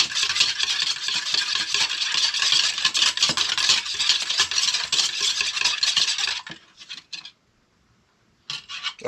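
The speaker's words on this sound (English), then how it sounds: "let me whisk it" Egg yolk being whisked in a bowl, a fast, steady, raspy scraping that runs loud and continuous for several seconds, then breaks off into a few brief, quieter strokes.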